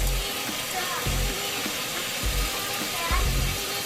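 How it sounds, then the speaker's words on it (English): A garden hose feeds water into a clogged basement drain pipe, giving a steady rushing hiss with intermittent low thumps and gurgles as the pipe fills. "So now watch as I let the kink go. Starts filling up and it will actually stop the water for a minute."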